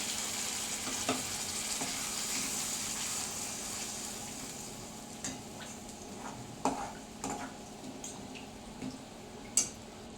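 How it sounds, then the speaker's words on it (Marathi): Spiced masala with added water sizzles and simmers steadily in a pan for a drumstick dish, with scattered crackles and a few sharper pops over a constant frying hiss, fairly close and no talking. "थोडं पाणी टाकूया आणि मसाला व्यवस्थित शिजून घेऊया"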